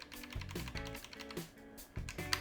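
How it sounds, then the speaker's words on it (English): An AOC Agon GK500 mechanical keyboard with tactile Outemu blue switches clacks under quick typing, a close run of crisp clicky keystrokes in uneven bursts with short pauses. "It's got Outemu blue switches underneath it. It's tactile and audible with the feedback."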